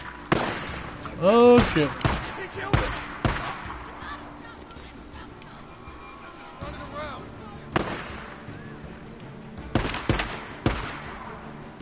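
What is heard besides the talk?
gunfire in the video game Days Gone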